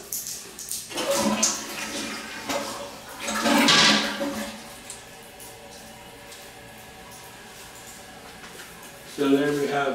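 A household toilet flushes close by with a gushing rush of water that surges, swirls and then settles into a quieter refill trickle, with a voice speaking briefly near the start and end.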